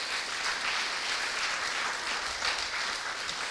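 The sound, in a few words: conference audience applause for speaker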